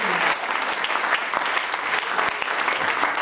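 A church congregation applauds and cheers young people in steady, dense clapping that fills the whole stretch, loud and continuous with no talk over it.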